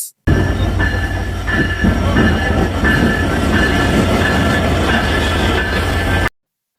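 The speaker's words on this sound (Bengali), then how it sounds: "আন্তনগর silk city express Ibrahimabad railway স্টেশনের 2 নম্বর প্ল্যাটফর্মে প্রবেশ করলো" The Silk City intercity express rumbles steadily into platform 2 of Ibrahimabad railway station with rhythmic wheel clatter and faint squeal, loud and close throughout, no voices.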